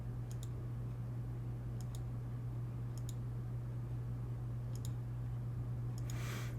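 Computer mouse double-clicking on a desk, a pair of quick faint clicks repeating about five times at steady intervals against a constant low hum.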